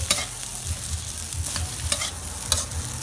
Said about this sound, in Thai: เอามาผัดรวมมากับข้าวไปเลย เป็นข้าวผัดกุ้งเบคอนเนาะ